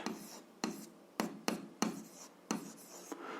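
Pen writing an algebra equation on paper, a series of close, quiet scratching strokes in short bursts with brief pauses between them.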